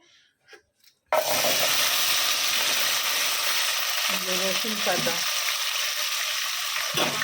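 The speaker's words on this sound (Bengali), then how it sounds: "রসুন পাতাটা ভেজে নেব।" Chopped green garlic with its leaves hits a hot oiled pan with a sudden loud burst of sizzling after a second of near silence, then keeps up a steady fry with occasional stirring clatter and a brief voice.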